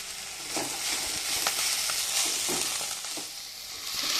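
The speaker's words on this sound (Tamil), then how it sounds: "இந்த பேஸ்ட்டு போட்டு ஒரு 2 நிமிஷம் நல்லா வதக்கிக்கோங்க" Steady oil sizzle as ginger garlic paste sautés in a pan, with soft scraping stirs every second or so, close and fairly loud, no voices.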